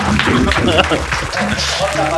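Loud applause from an audience at a comic tongue-twister show, a steady wash of clapping that runs throughout with a voice talking over it.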